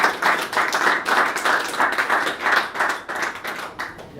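Clapping at a pub debate, a small group whose claps come in uneven pulsing waves, fairly close and loud, thinning out near the end.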